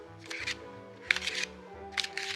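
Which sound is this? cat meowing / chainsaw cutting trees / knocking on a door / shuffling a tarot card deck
shuffling a tarot card deck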